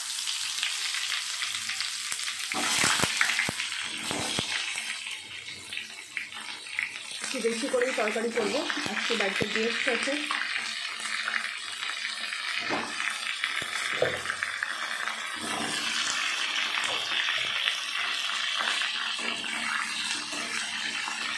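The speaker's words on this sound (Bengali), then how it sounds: "তেলটা আমার গরম হয়ে গেছে কড়াইয়ের। এখানে আমি দিয়ে দেবো পটল।" Pointed gourd (potol) frying in hot oil in a wok gives a steady broadband sizzle throughout, with a few sharper bursts as pieces go in, while someone speaks over it.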